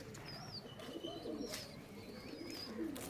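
Freshly released pigeons coo low and faintly at a loft, with thin high chirps and a steady background hiss, no talk over it.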